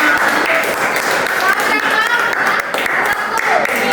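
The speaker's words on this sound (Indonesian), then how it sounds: "Tepuk tangan." Classroom applause during a civics lesson, a dense, steady burst of many hands clapping that lasts the whole moment.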